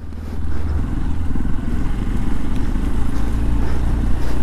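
A KTM Duke 390 or Hero Xpulse 200 motorcycle rides on a snowy, hail-covered mountain road, its engine giving a loud, close, continuous low drone with a steady throb throughout and no talk.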